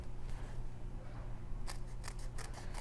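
Scissors snip through small paper hearts during card making, a series of crisp cuts in quick succession near the end, close and clear with no talking.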